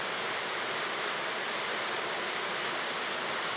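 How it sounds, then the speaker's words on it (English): Mountain stream and waterfall in western Massachusetts pounding over boulders, a dense, steady roar of rushing water that stays constant and close. "A mountain stream pounding over ancient boulders seems to evoke primal feelings in us."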